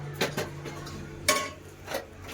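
A metal wok set down on a kitchen stove before frying fish gives a few sharp clanks and taps, close by and fairly quiet against light room noise.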